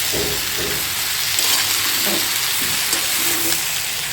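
Ginger and green chilli paste sautéed with a spatula for prawn pulao, a loud, continuous close-up sizzle with soft scraping stirs woven through, no voices.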